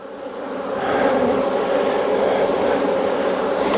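Weaver lineage honeybees from Navasota, Texas, buzzing during a corner hive inspection, a dense continuous hum that swells early and then holds level and fairly loud, with no talk.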